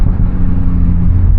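Renault Megane RS Trophy hot hatch engine burbling at low revs, a loud, steady, deep rumble heard close with no talk.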